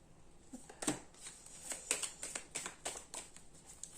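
Tarot cards shuffled and slapping down, a quick series of crisp papery flicks and riffles close by, fairly quiet, with no talk.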